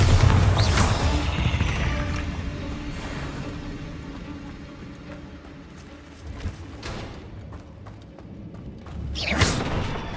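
A Bombarda spell blast in Hogwarts Legacy lands as heavy thuds and crashes, with a loud booming impact at the start, a further hit mid-clip and another burst near the end, all without speech.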